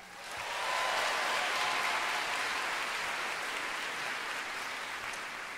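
An audience at a student fashion show applauds loudly for the designers and models, dense sustained clapping that swells in within the first second and holds steady, easing slightly toward the end.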